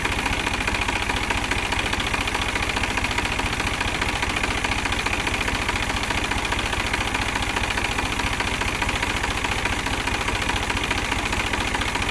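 A New Holland tractor's diesel engine runs steadily at idle with a continuous low rumble and faint knocking vibration, close and loud, with no voices.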